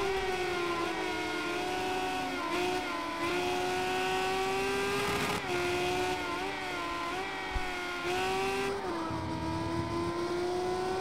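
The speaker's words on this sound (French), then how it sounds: "on entend le bruit des deux moteurs" Two video game race car engines, Renault Mégane Trophy V6 at the Red Bull Ring, drone continuously with sustained, slightly wavering tones, rising and dipping together as they rev, steady and loud with no talking.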